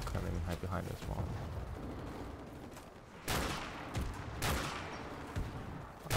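Gunfire rattles through a Modern Warfare Remastered campaign battle: steady rapid shots build into two loud, dense bursts partway through, with a voice faintly underneath.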